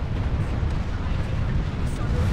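A steady, loud rumble of explosions from rocket launchers in a video game, with faint scattered pops over the roar.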